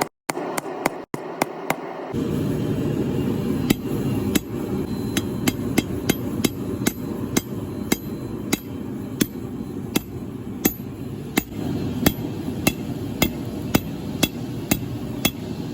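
A hammer strikes hot steel while forging a saber-type knife, sharp ringing blows landing at a steady, fairly regular pace over a constant roaring hum.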